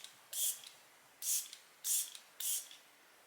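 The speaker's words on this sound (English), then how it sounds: "Urban Decay All Nighter Setting Spray" Four short, soft hissing bursts of Urban Decay All Nighter setting spray misted onto a face, evenly spaced with brief pauses, close and quiet.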